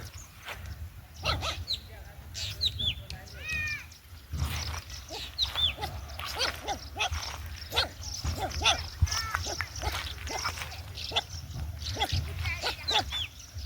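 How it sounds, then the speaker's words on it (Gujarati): Young puppies on a village farm yelp and bark in short, scattered bursts throughout, moderately close, with people talking over them and faint outdoor background. "નાના નાના બે ગલુડિયા છે, અમને જોઈને ભણે છે"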